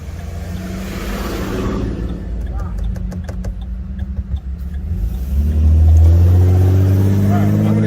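Road traffic rolls past with car engines humming and one vehicle revving louder as it nears, steady and fairly close, with someone talking over it.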